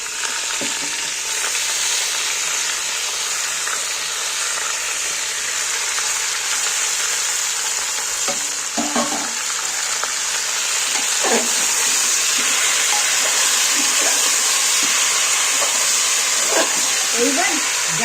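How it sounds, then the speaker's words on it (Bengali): Chicken is sautéed in a pan and stirred constantly, making a loud, steady sizzle and frying hiss that runs the whole time, with occasional scraping and clinking from the stirring. "এই মাংসটাই সেইভাবে খালি কষতে থাকবে, নাড়তে থাকবে"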